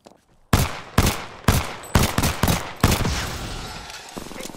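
Loud gunfire in the video game Apex Legends: a rapid series of about six sharp, powerful shots in close succession, each ringing out with a decaying tail, followed by a lingering rumble; no speech.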